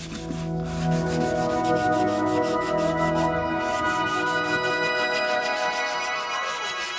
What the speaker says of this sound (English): I sanded everything smooth using a 320 grit sanding sponge to help create a more flawless finish in preparation for primer and paint.